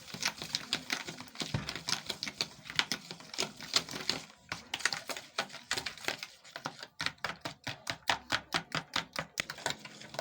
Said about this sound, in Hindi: अच्छे तरीके से हम इनको फेंट लेते हैं।